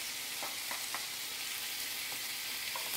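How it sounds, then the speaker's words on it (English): Ground meat sizzles quietly in a pan with onions, garlic, black pepper, allspice and paprika, mixed in for Bosnian burek filling: a steady, faint hiss with occasional soft stirring clicks, no voices. "I'm just gonna keep working this meat and mixing in those seasonings until everything is all combined with the onions and the garlic"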